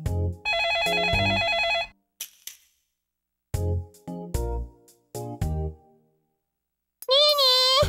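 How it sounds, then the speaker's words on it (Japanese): A telephone rings in the PS2 game Amagami with a bright electronic trilling ring, then the game continues with short voiced sound bursts and a rising electronic tone, heard clean with no background noise. "ニーニー、電話だよ。"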